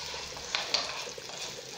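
Rice frying in a pan with onion, a soft steady sizzle with a couple of small sharp ticks as it is stirred, heard on its own.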